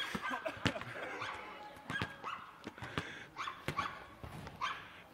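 A dog barks in repeated sharp bursts with some yips and whimpers at moderate distance, outdoors during a game of fanny basket, with faint background noise.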